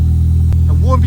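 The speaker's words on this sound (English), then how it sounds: "I'm not sure how well you can hear us with that exhaust" A Ford Cosworth car's exhaust rumbles steadily close by, with a brief thump near the middle and a voice speaking over the end.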